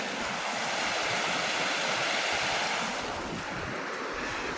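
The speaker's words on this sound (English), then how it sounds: "Lots of water flowing." Water flows steadily between bogs in a wilderness stream, a loud continuous rush with some wind noise and no voices.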